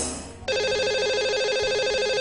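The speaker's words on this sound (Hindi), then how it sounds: "चलिए उन्हें कॉल मिलाते हैं" A telephone ring tone sounds after a call is dialed on a live Hindi call-in broadcast. It starts with a short dialing burst, then a steady electronic ringing pattern continues, loud and close.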